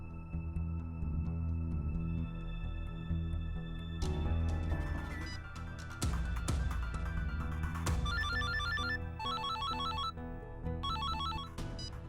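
A mobile phone ringtone plays in a Hindi television drama scene, a melodic electronic tone that repeats in several bursts, then shifts to a brighter pulsing pattern near the end, with no talking over it.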